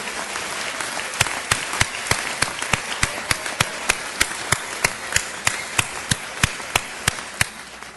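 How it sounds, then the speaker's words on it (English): A school assembly audience fills the room with sustained applause, while a single loud clap or bang repeats on a steady beat throughout, standing out above the crowd. "Now you applaud."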